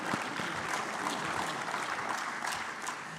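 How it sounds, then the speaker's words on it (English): Audience applause in a main conference room at a summit, a steady, dense clapping from a crowd that holds evenly throughout, with no talk. "A round of applause."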